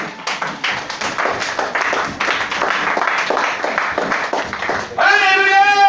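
Church congregation clapping in steady rhythmic unison to acclaim Jesus during a worship service, loud and dense, with voices mixed in and a sung or shouted tone rising near the end.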